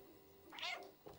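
A single short cat meow from the video game Stray, faint and soft, followed by a brief, quieter second chirp.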